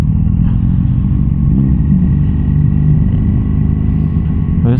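Kawasaki Z900 SE motorcycle engine idling and creeping through a traffic jam in Malaysia, a steady loud low-pitched thrum heard close up with light clatter and no talk.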